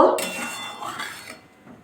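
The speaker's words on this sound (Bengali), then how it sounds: "মশলা দিয়ে আবার একটু নাড়াচাড়া করে নিলাম" A spoon stirring ground spice paste in a cooking pot while making a vegetarian elephant-foot yam dish, heard as a brief close metallic scrape and clink followed by a softer rustling stir, with no talking.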